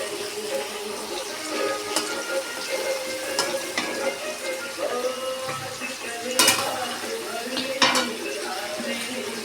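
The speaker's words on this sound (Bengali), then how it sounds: "আলুটা ভালো করে ভেজে নেব।" Potatoes frying in a pan with dried red chillies and bay leaves, a steady crackling sizzle broken by a few sharp clinks of a utensil against the pot, with clatter close by.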